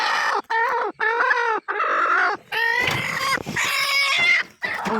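A hen near a brooding turkey hen on her eggs lets out a run of loud, harsh clucking squawks in quick bursts with short breaks, very close, with no voices.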